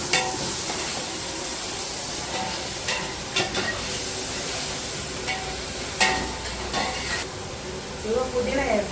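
Chicken gravy made with tomato, ginger and onion paste fries in a pot, a continuous close sizzle and hiss broken by intermittent scraping stirs, with a voice talking over it.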